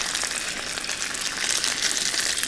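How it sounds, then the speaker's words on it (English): Salmon fillets cook skin side down in vegetable oil in a pan, giving a steady, dense sizzle that stays close and even for the whole short stretch, with no voices. "I'm just going to cook the salmon, skin side down."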